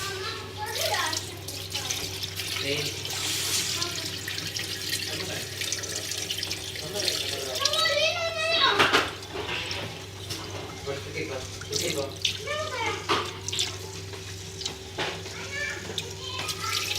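Rice rinsed under a running kitchen tap to wash off the starch, water splashing steadily into a sink with the grains swirled by hand, while a person speaks over it.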